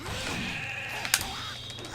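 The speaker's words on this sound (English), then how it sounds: "it makes a sheep sound every time he hits someone." A wavering sheep bleat sound effect plays when a fighter lands a hit in the video game SoulCalibur II HD, moderately loud over a low game hum, followed by a sharp impact crack.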